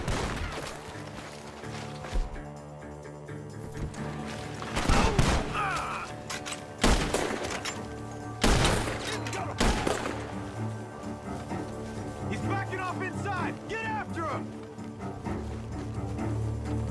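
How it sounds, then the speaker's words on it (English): Gunfire from a barn in the video game Red Dead Redemption 2, with bursts of loud, sharp shots scattered across the stretch over a steady background of game ambience and music. "The gunshots are coming from that barn."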